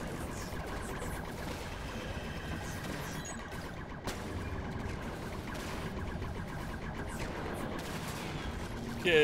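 Dense, continuous gunfire from a co-op space shooter, Lovers in a Dangerous Spacetime, rattling steadily as a rapid fusillade amid busy game sounds, with no voices and a sharp burst at the very end.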